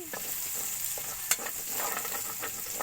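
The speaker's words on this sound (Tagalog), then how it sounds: "nagluluto pa ako ngayon ng puset. Inuna ko muna yung sibuyas sa kabawang" Onion and garlic sizzle steadily in a pan, the first step of a squid adobo. The frying hiss is continuous, broken by scraping stirs and a sharp clink near the middle, with no talk.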